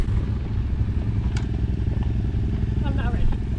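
A dirt bike engine runs steadily in the desert as the rider sets off, a loud continuous drone under excited talking and cheering from nearby people.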